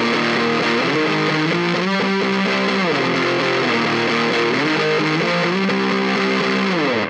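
A distorted electric guitar riff plays loud and steady, its chunky repeating chords shifting pitch in a driving rhythm with no voices over it.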